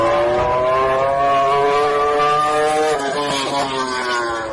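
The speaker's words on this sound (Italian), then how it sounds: "E il sound Yamaha comunque si mantiene nonostante sia un V4." Yamaha V4 MotoGP motorcycle engine at high revs, a loud, steady, smooth whine with a brief shift-like dip about two-thirds through, then pulling again; no voices.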